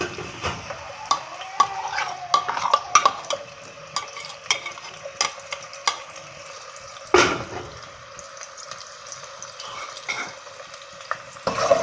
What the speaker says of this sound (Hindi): तो मैं अब ये ऑयल मैंने डाला है, अब इसमें प्याज डालने लगा।